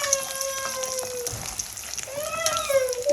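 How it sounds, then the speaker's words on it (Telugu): Mustard seeds spluttering in hot oil as tempering for a homemade pickle. Sharp crackles and pops sound close over a faint sizzle, with some tonal background hum, no voices. "ఆవాలు బాగా చిట్టుపట్లాడాలి"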